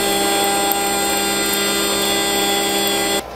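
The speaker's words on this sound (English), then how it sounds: "trims about to cut on the CNC" A CNC machine cuts trim for a rear door panel on a Cyprus 29 HAF Stacker build, a steady loud whining machine drone with strong tonal hum that runs unbroken for about three seconds, then cuts off abruptly.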